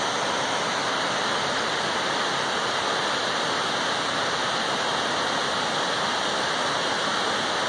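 Munson Creek Falls, the tallest waterfall in Oregon, roars with a steady, dense rush of falling water that holds constant and loud throughout, with no voices over it.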